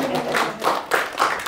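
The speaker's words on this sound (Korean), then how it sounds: "이럴 때는 박수를 치는 거예요." Audience in a lecture hall clapping, a quick run of sharp hand claps that swells and fades in several bursts.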